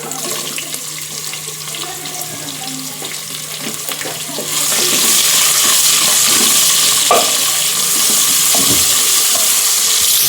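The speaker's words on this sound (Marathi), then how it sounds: "कांदा गुलाबी होईपर्यंत भाजून घ्यायचा आहे" Chopped onion frying in a pan until pink, a steady broadband sizzle that thickens and grows louder halfway through, with occasional clinks of stirring.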